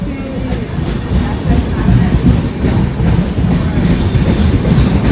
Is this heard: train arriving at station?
yes